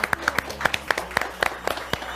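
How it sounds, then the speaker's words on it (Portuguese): A small studio audience claps for an interview guest on a talk show, a brief burst of scattered, distinct hand claps close by, irregular and fairly light rather than a full roaring ovation. "Já vou pedir aquela salva de palmas bem calorosa, gente, porque ela merece."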